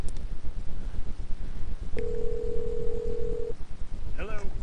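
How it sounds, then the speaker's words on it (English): A telephone call rings through on a desktop switchboard: a steady electronic tone sounds for about a second and a half, faint beneath background hiss and murmur, followed by a brief warbling trill. "I can hear it ringing through"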